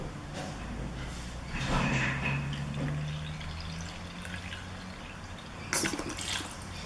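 Water trickles and splashes into a mixture in a container in a steady pour, with a brief louder splash near the end; no voices.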